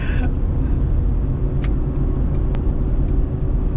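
A first-generation Honda CR-V, Australian version, driving along with a steady loud engine and road rumble from inside the cabin, with a couple of brief higher noises over the drone.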